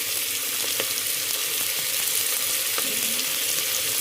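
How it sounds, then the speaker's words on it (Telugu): Sliced okra fried in oil in a pan, stirred as it cooks: a steady broadband sizzle runs throughout, with a few sharp scraping clicks of the utensil against the pan, close and fairly loud, no voices. "మనం జర్ర ఇట్లా కలుపుకోవాలి, మంచిగా కలగాలి."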